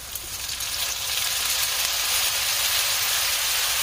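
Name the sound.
vermouth added to melted butter, sizzling in pan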